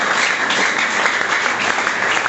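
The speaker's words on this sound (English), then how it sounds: "Please, can you clap once again for IT4YUS?" Dense, steady applause from a debate competition audience, clapping on for a sponsor, sustained and fairly close throughout with no voices standing out.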